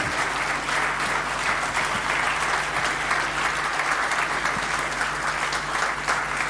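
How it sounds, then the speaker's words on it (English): Dense, loud applause from an audience at a wildlife photography awards ceremony, steady and sustained throughout. "The clap should go on."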